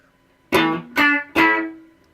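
A close electric guitar picks out three quick, bright distorted chops of the main riff, the unused strings muted by the fretting hand so each note stops abruptly.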